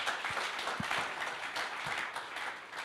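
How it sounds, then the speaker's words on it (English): Audience at the DeSci.Berlin scientific collaboration conference applauds after a presentation, a steady wash of dense clapping that carries evenly through the whole stretch with no voices over it. "An applause for Rafa, please, and for this presentation."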